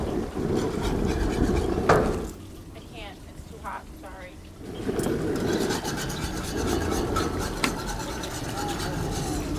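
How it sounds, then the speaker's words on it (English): Apple juice and Marionberry jelly being stirred in a pan, a steady close scraping and rubbing that continues throughout, with a short quieter stretch partway before the stirring resumes. "keep stirring it so it doesn't stick"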